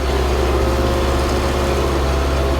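A farm tractor engine runs steadily, a loud, constant low rumble with a fine rapid throb and no change in pitch.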